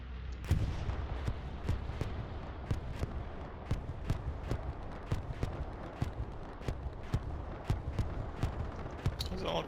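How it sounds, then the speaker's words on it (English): Strafing run from an aircraft hitting troops in the World War II shooter game Hell Let Loose, a steady series of sharp, distant impacts repeating roughly every half second, with speech over them. "Wow, a strafing run that actually just killed like 4 people."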